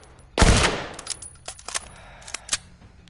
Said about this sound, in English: Pull the trigger to fire your rifle at the target.